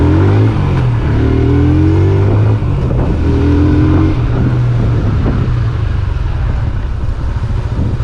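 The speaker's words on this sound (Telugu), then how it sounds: "ఫస్ట్ గేర్ వేసుకున్నాను, క్లచ్ కూడా చాలా స్మూత్ ఉంది." A TVS Apache RTR 160 motorcycle rides in first gear, its engine loud and close with a rising drone, and heavy wind rush over the microphone throughout.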